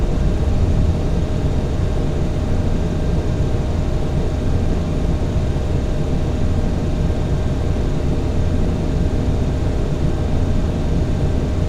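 Boeing 737 jet engines held at climb power in Flight Simulator X, a constant loud low roar with a thin steady whine above it, unbroken throughout with no voices.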